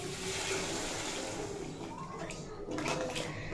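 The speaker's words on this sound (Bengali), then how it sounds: "এরপর এড করে দেব পরিমাণ মতো গরম জল।" Hot water pours into a pan of potato and pointed gourd curry, a steady broadband wash of liquid running for a few seconds at moderate level with faint kitchen background.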